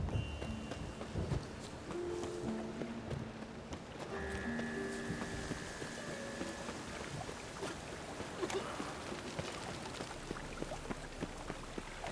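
Heavy rain and rumbling thunder of a storm in The Witcher 3, a dense, constant wash of downpour with low rolling rumble beneath, steady and close throughout.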